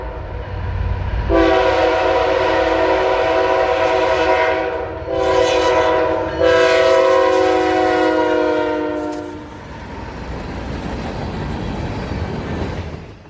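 A loud freight train horn blares in three long blasts, the middle one shorter, over the rumble of a passing train of empty grain cars that continues afterward.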